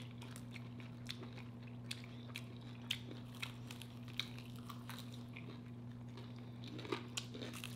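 Air-fried shrimp rangoons are bitten and chewed, producing faint, irregular crisp crunches and clicks close to the microphone over a steady low hum.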